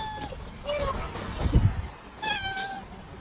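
A cat meows several times in a short exchange, with drawn-out, rising and falling calls at close range and a bump of handling noise between them.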